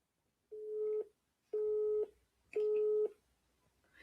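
A telephone busy signal heard through a phone held up to a microphone: three evenly spaced half-second tones with short gaps between them, clear and steady with no voices.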